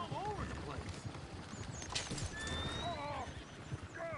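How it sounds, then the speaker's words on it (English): Horses in the Red Dead video game neigh and whinny several times over rapid hoof clip-clop, with voices talking throughout. "Oh, shit, the horses! Damn horses!"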